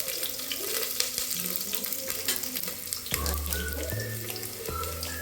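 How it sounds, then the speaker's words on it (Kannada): Onion and curry leaves frying in a pan for radish sambar, a steady broadband sizzle with a few clattering knocks and faint tonal kitchen sounds, close and moderately loud. "ಒಂದು ಅರ್ಧ ಕಟ್ ಮಾಡ್ಕೊಂಡಿದ್ದೀನಿ ಈರುಳ್ಳಿ, ಕರಿಬೇವು ಒಂಚೂರು ಫ್ರೈ ಆಗಲಿ"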